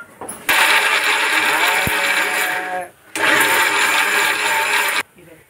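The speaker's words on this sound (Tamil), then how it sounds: "இந்த மிக்ஸி மட்டும் எல்லாரும் வீட்டு சவுண்ட் இல்லாமல் ஓடாது போல." Household mixer grinder running loudly in two bursts of a few seconds each with a brief pause between, a harsh whirring grind close by.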